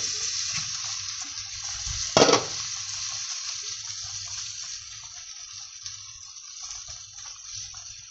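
Pasta boils in a pot of water for Korean-style pork noodles, giving a steady soft bubbling hiss with one brief louder clatter near the start, otherwise even and continuous.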